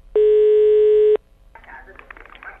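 A telephone call being placed during a prank call: a steady, loud dial tone holds for about a second, then cuts off, and muffled line noise and faint voices follow.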